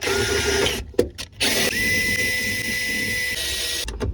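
A power drill drills out a rivet in a car door panel, running in short bursts with brief pauses, then settling into a longer steady whine, close and loud.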